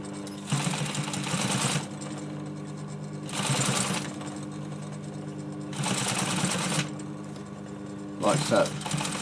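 Sewing machine stitching fabric for a chair arm cover, running in four short bursts of rapid mechanical whirring separated by pauses.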